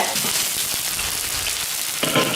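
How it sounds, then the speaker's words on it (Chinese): Scallion, ginger and garlic frying in oil in a wok, a steady close sizzle with crackling spatter that swells louder near the end. "锅里倒点油，下入葱姜蒜"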